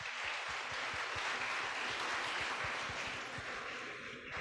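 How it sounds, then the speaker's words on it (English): An audience at a youth forum on technology claps for an answer, a fairly quiet, steady wash of applause with some distinct hand claps, continuous for a few seconds and fading slightly at the end. "Let's have a big round of applause for his amazing answer"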